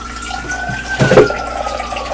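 Ordinary water is poured into a measuring cup, producing a short close splash and trickle over a faint background hum.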